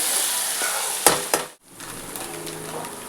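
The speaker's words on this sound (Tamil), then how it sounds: "இன்னும் கொஞ்சம் கூட இந்த வெங்காயம் தக்காளி வந்து நல்லா வதங்கணும்" Onions and tomatoes sauté in a pan for a fish curry, giving a steady crackling sizzle broken by two sharp spatula knocks and a brief drop in sound before the frying resumes.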